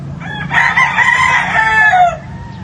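Gamefowl broodstag rooster, a straight-comb Sweater Boston, crowing once loudly and close, a drawn-out cock-a-doodle-doo lasting about a second and a half over a steady background hum.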